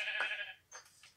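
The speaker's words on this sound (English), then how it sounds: "Ah, yes, it's a sheep." A sheep bleats in the video game Minecraft: a loud, close, wavering bleat followed by a shorter second call, with no talk over it.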